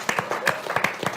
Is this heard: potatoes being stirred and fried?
no